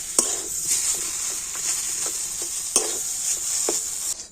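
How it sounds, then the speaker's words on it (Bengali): Boiled potato and spices being stirred in a hot pan for palak puri filling, with a soft steady sizzle and several sharp spoon scrapes and taps up close. "এবার আমি সব কিছু ভালো করে নাড়াচাড়া করে নেবো মানে সমস্ত মশলা থাকে তো সিদ্ধ আলুটাকে সেইভাবে নাড়াচাড়া করে নিতে হবে"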